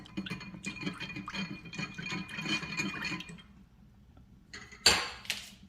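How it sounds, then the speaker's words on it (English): Whisking a marinade of oyster sauce and soy sauce for Spam: a run of quick, light clinks and scrapes of a whisk against a bowl, close and steady, then stopping, followed by a couple of louder knocks. "All we need for our spam marinade is 1/4 cup oyster sauce to 1/4 cup soy sauce. Let's give this a whisk."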